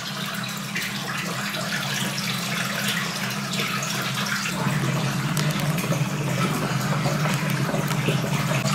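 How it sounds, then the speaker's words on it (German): Water rushes and splashes continuously as aquatic plants are placed into a large home aquarium, steady and close, growing slightly fuller partway through. "Jetzt setze ich noch schnell die Wasserpflanzen rein."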